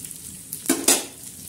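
Chilies tossed into a hot pan of roasting kala masala crackle in two sharp, close sizzling bursts, then settle back to a low hiss.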